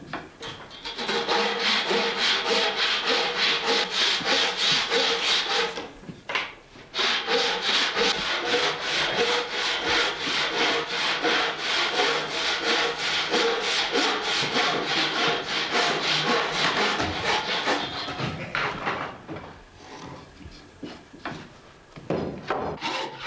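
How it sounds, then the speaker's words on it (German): A beech board clamped to a workbench is cut by hand with a narrow-bladed frame saw in a traditional hame-maker's workshop. Steady, rapid back-and-forth rasping strokes run continuously, with a brief pause before sawing resumes, then fading toward the end. "Wie schon beim Sägen der Bügel benutzt der Hamenmacher eine Spannsäge mit schmalem Blatt."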